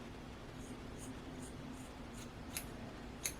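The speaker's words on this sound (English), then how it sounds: "I'm cutting according to the way my hair is already shaped" Scissors trimming hair at home, a series of soft, regular snips about every half second, close but faint over a steady background hiss.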